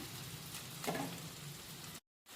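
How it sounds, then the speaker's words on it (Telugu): Finely chopped garlic frying in a pan with mustard seeds: a steady, close sizzle with a brief stirring scrape partway through, then a sudden cut to silence. "ఎల్లిపాయ చిన్నగా కట్ చేసుకున్నవి మంచిగా ఫ్రై చేద్దాము"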